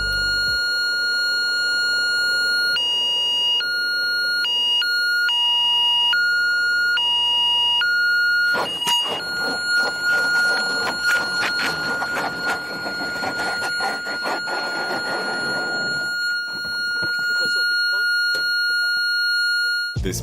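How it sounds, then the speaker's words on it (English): Aircraft landing gear warning alarm, a loud electronic tone alternating between pitches in a repeating pattern, then a harsh scraping crash as the plane lands without gear, with the steady alarm tone continuing underneath and voices speaking. "This plane landed without landing gear due to the pilot forgetting to deploy it before landing,"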